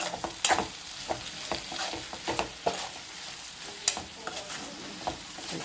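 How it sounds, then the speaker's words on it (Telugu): A spoon stirs a fish curry of dried fish and egg in a pan after chili powder goes in. Soft scraping strokes and light sizzling repeat at an uneven pace, close and fairly quiet. "టూ టేబుల్ స్పూన్ కారం వేసాను వేసి చక్కగా తిప్పేస్తే"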